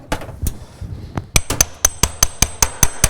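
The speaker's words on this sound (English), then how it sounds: "I can hammer it more, Doug." A metal pry bar is hammered against a PC case in a steady series of about ten sharp, ringing metallic strikes, close and loud, after a few scattered softer knocks.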